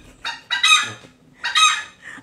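A rooster crows loudly and close by during a live stream, two full crows about a second apart, each with a rising, strained, cock-a-doodle-doo shape, alone without talk.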